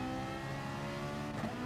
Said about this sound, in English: Definitely revving it out.